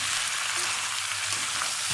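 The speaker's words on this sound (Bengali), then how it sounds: "গোটা রসুন দিব আর কষামো" Whole garlic cloves fry in a pan of oil for mutton curry, giving a brief, steady close sizzle and hiss with a little stirring and no talk.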